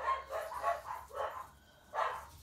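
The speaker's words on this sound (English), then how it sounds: "Oh, and there's my dogs barking." Several dogs bark indoors at a moderate distance, about four rough bursts of barking in quick succession with a short pause before a final burst.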